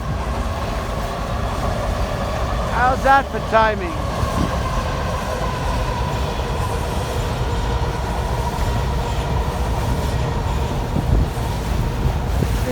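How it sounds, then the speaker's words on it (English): Near a Washington, DC railroad bridge, a train rumbles steadily across, with a brief warbling horn burst early and continuous low rolling noise, while someone speaks briefly. "Oh, you get to see a train."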